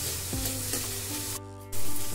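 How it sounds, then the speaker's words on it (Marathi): Tomato and onion fry in a pan with a steady close sizzle, which drops briefly and then surges louder as more goes in; no one speaks. "आता आपण यामध्ये टोमॅटो टाकणार आहोत।"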